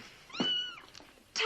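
A kitty meows once, a clear rising-and-falling cry close by, followed by a quieter sound and a short sharp noise at the end.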